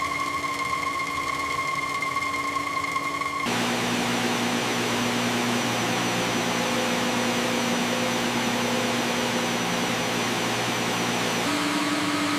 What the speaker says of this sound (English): Calcium carbonate is fed slowly through the vacuum feeder